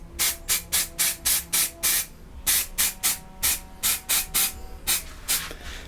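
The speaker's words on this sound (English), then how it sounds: "I try and stay as sort of horizontal as I can and just go and spray the whole models" Spray can priming plastic miniature models, Primaris Space Marines laid out on a tray: a rapid series of about sixteen short, even hissing bursts, close and crisp, with a brief pause midway and no talking.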